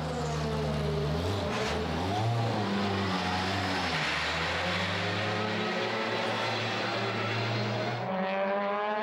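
DTM silhouette race cars built on a space frame roar along a circuit, a continuous loud engine note with rising and falling revs through gear changes, heard up close for most of the stretch before cutting off near the end.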